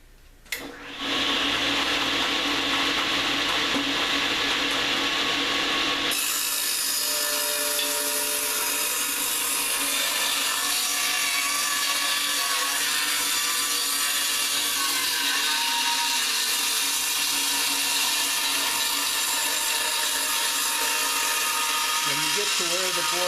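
A table saw blade cuts cove molding into a wooden board with a steady, loud, high whine and a grinding rasp that runs almost unbroken for over twenty seconds after a brief spin-up.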